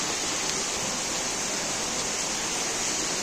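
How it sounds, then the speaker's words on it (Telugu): Rainwater after heavy rain rushing through town drainage canals in Gooty, a dense, steady broadband roar of flowing water, close and continuous with no pauses. "పారుతున్నాయి నీళ్లు."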